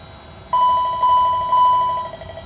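Cockpit warning chime in an X-Plane 12 Challenger 650 during the warn and fail test: a steady electronic tone sounding three times in a row, each pulse sustained and fading slightly, over a low background hum.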